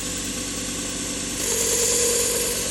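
Belt grinder running a 200-grit belt to sharpen a Knives of Alaska Muskrat Skinner, a steady humming motor whir with a rougher grinding rasp rising in the second half as the blade meets the belt.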